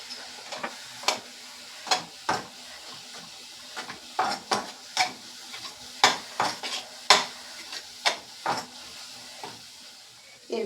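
Ground turmeric, chili, cumin and coriander fry in a pan for a fish curry while a utensil stirs them. Rhythmic scraping strokes about once a second sit over a soft sizzle.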